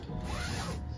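A zipper on a couch cushion cover is pulled in one steady, close, rasping run that lasts about a second.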